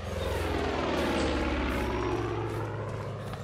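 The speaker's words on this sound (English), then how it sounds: "I hear planes." Airplanes fly overhead in the video game Far Cry 5, a loud, steady propeller-engine roar filling the whole clip with a constant droning rumble and no voices.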